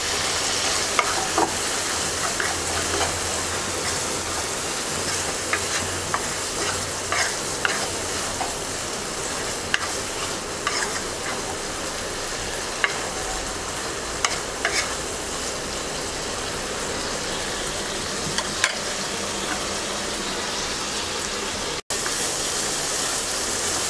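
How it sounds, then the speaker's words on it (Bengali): Shrimp sautéing in a pan with salt and chopped green chilies, a steady broadband sizzle with frequent scraping stirs and clicks of the spatula throughout, close and alone with no voices. "চিংড়ি মাছটা কিছুক্ষণ কষিয়ে নেব।"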